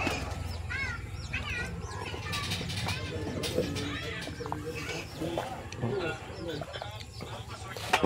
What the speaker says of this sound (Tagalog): Ito naman para sa sisiw, sa mga sisiw na chabo.